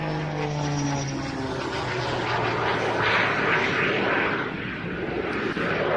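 Turbine-powered aircraft flying aerobatics at the International Ayr Show Festival of Flight 2024 produce a loud, continuous engine roar with a tone that slides down early on, steady throughout, with no talking.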